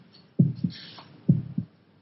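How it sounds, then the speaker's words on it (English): Two pairs of low, thumping heartbeats, each a lub-dub double beat, steady and close with quiet between them. "Can you hear your heart beating?"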